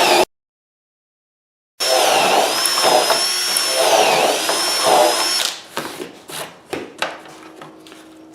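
Power drill boring holes through a shelf guided by a MilesCraft Cabinet Mate shelf-pin jig, a steady high whine for about four seconds after a short silence, then dropping into a few brief spurts and clicks as it winds down.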